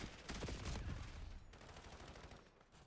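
Gunfire in a Black Ops-style shooter video game: a quick cluster of burst shots near the start, loud and close, then fading into quieter echoing tail and faint ambient noise, with no talking.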